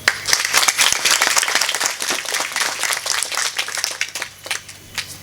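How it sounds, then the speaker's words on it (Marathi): A crowd applauding at a Varkari kirtan, dense clapping that starts strong and gradually thins toward the end. "जरा मोठ्यांदा टाळी वाजवा."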